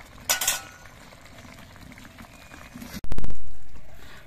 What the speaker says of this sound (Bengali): আর টমেটোগুলো আর একবার নেড়ে চেড়ে দিতে হবে।